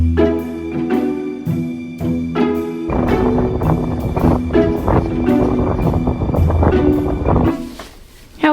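Gusty wind at sea on a cruise ship deck buffets the microphone in loud, uneven bursts, with a low hum and rolling rumble beneath.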